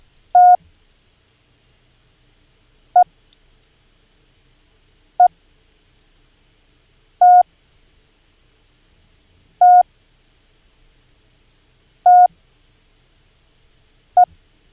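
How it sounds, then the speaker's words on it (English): Morse code practice tones for the letters E and T: seven separate single beeps of one steady pitch, some very short dits and some longer dahs, spaced about two seconds apart over silence. "you now learned the 2 foundational building blocks of Morse code, and they are the E and the T."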